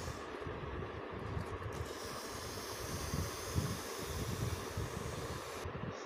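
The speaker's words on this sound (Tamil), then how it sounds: "காற்று போகுது." Air hisses steadily out of an air pillow as its valve is pressed open, a constant breathy rush that holds even and unbroken throughout.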